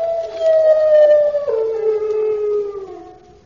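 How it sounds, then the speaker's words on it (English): A single dog howls loudly and close by in a long, wavering, falling note that tapers off at the end, with nothing else audible. "Only a dog."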